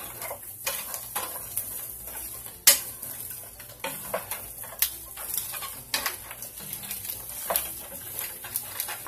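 Chicharrón prensado browning in a pan over medium heat, a dense steady sizzle with crackling pops and occasional scrapes and clinks of a utensil against the pan, close and continuous.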